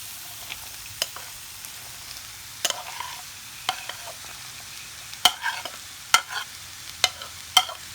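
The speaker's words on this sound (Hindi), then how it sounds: "और इन सबको अच्छी तरह से मिक्स कर लेंगे" Spiced chicken and vegetables are being stirred and fried in a pan: a soft steady sizzle with sharp, irregular spoon scrapes and clinks scattered throughout, close up and with no talking.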